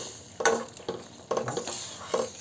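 Safeda vegetable curry with tomatoes stirred in a cooking pan over low heat: a few distinct scraping, clattering strokes of a spoon against the pan over a faint background sizzle, close up and without talk.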